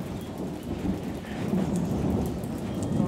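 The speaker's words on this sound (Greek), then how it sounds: "Βρέχει" Thunderstorm with heavy rain, a dense continuous hiss of rainfall on surfaces with low rumbling underneath, steady and fairly loud with no voices.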